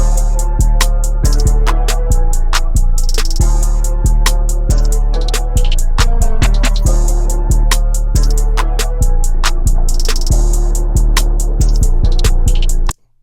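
A looping guitar-like sample for a beat plays with sharp repeated plucks over a sustained low drone, washed in reverb, loud and close, ending abruptly.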